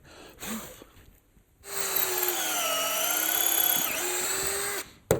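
A power drill whirs steadily for about three seconds while boring into a wooden beehive pallet, after quieter handling sounds, then stops abruptly.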